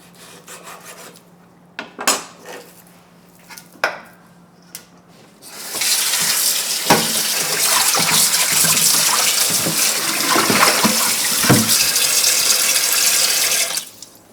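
Water runs steadily from a kitchen tap while a cutting board and knife are washed, a loud continuous rush after a few sharp knocks and clatters, with scrubbing and splashing over it and no voices.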